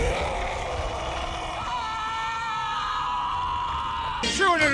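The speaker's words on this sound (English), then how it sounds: "whenever anyone says the secret word, scream real loud!" A crowd scream-along to a secret word: a sustained, loud, wavering group yell that holds for several seconds and then rises into a sharper burst of voices near the end.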